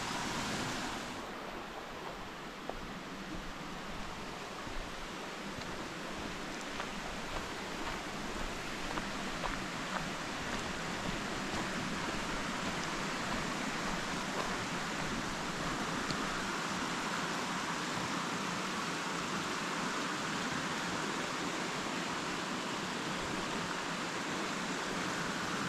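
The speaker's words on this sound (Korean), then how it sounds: "저기 폭포가 보입니다" A waterfall on a summer highland wetland trail at Ryugahara in Japan gives off a steady, even rush of falling water that stays soft and distant throughout.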